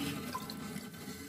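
Water rushing through a rusty toilet as it is flushed, a faint, steady wash of flowing water heard alone for a brief moment.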